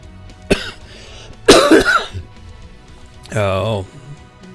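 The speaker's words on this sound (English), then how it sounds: "I've got a little cough now" A person's short cough bursts stand out during a live-streamed session of the mech combat game Mechwarrior Online, with a few separate coughs or throat-clearing sounds spread across the clip and no speech in between.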